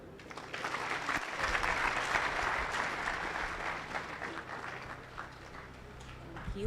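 An audience at an education and leadership congress for refugee scholarships gives dense, continuous applause from many hands. It stays full and even for several seconds, with a brief thump partway through, and eases slightly toward the end.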